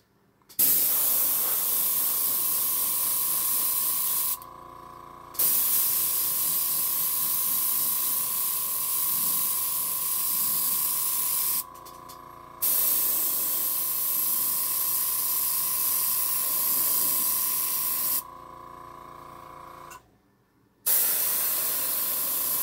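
Airbrush spraying paint in a steady close hiss, laid down in three long bursts with brief pauses between, plus a faint steady compressor-like tone underneath.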